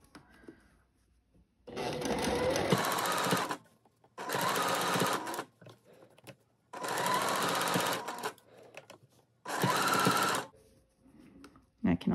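A sewing machine stitches ruffles onto a floral sundress in four distinct bursts of steady, close whirring, each a second or two long, separated by quiet pauses.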